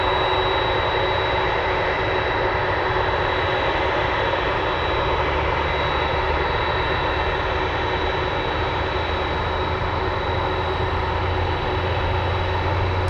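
Douglas DC-3 propeller airliner near Anchorage airport, a continuous droning piston-engine hum with a steady high whine layered above, held evenly at moderate loudness with no talk.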